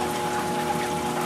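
Aquarium water from a clown loach tank rushing steadily into a drain system behind the tank, a constant close gushing hiss with no breaks and no voices.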